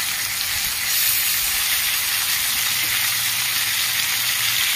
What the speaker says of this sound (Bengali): জিরে, ধনে, আদা বাটা দিয়ে দিচ্ছি।